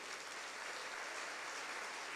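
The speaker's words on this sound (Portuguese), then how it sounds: "aplaudir o Senhor aqui, meu Deus." Congregation applauding during a church service, a dense, even wash of clapping from many hands that holds steady throughout, moderately distant.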